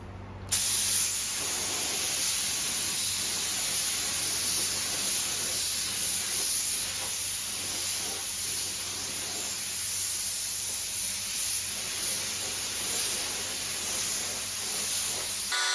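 A spray gun lays light coats of paint on a 1967 Nova body, hissing loudly in one long continuous burst with slight fluctuations, then cutting off abruptly at the end.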